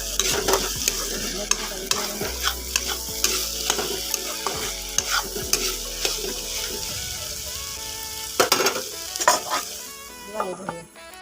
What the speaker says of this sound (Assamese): তো ভাজিটো পূৰা একদম এইফালে সিজি আছে